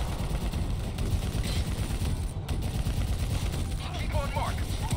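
Bursts of automatic gunfire in a Call of Duty match, continuous rattling shots over game ambience, with a voice talking over the action.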